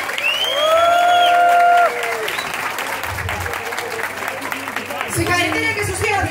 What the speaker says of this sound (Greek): Δεν αξίζουν ένα χειροκρότημα και τα δύο παιδιά